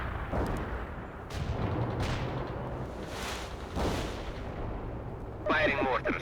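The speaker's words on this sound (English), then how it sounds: "Firing mortars." Mortar rounds thump and burst repeatedly in the World in Conflict battlefield, several muffled booms spaced a second or so apart under a steady rumble, with a voice speaking over the barrage.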